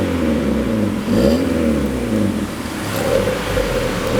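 A modified 22-year-old Honda City's exhaust revs in normal mode, a close, loud engine note rising and falling in a couple of throttle blips.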